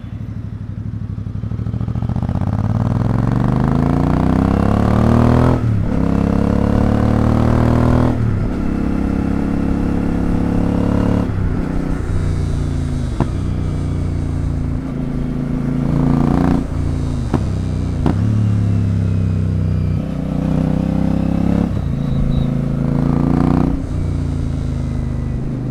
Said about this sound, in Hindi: बीच बीच में आपको एग्जॉस्ट साउंड सुनाता रहूँगा